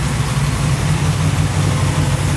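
Car engine with a rebuilt Holley 4150 Brawler carburetor idling at around 1100 to 1200 rpm, a steady, close, low rumbling drone with no change in pace.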